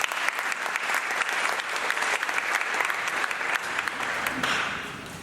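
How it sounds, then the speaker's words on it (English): Sustained audience applause at a Falling Walls Lab event in Cape Town, dense and even clapping from a crowd that fills the room for several seconds before tapering slightly at the end. "Can we give one final round of applause to them?"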